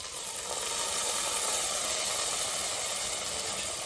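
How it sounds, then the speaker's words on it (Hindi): Hot tadka tempering poured over Odisha-style kanji, a steady broad sizzle and hiss that swells in the first half-second and then holds evenly, close and moderately loud. "सभी तड़के को कांजे के ऊपर डाल देंगे"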